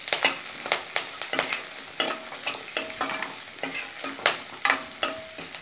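Curry leaves, ginger and six garlic cloves are sautéed in a pan for Chettinad egg kuzhambu. A spatula scrapes and stirs in quick repeated strokes over a light sizzle, each stroke a sharp close scrape.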